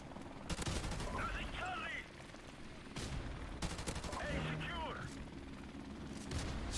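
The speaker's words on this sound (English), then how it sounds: "That dude just runs around hip firing his LMG." Light machine gun fired from the hip in the shooter Modern Warfare Remastered, bursts of rapid gunfire in two clusters over a steady game soundscape, with talking over it.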